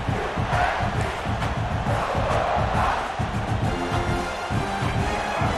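Roaring stadium crowd in the College Football 26 video game during a Virginia Tech versus South Carolina matchup, a steady wall of cheering and chanting voices with rhythmic surges throughout.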